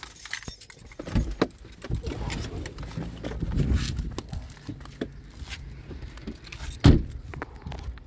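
A set of car keys jangles in short metallic bursts, with one sharper clink standing out near the end, amid muffled rustling and handling noise inside a parked car on the way to a performance.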